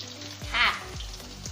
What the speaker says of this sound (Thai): ทีนี้เราก็จะเจียวครับ เจียวเหมือนเจียวไข่เลยครับ